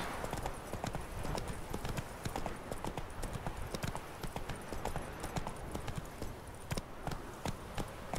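Horse hooves clip-clop at a steady trotting rhythm in The Witcher 3: Wild Hunt video game, a continuous run of close, even hoofbeats lasting the whole stretch.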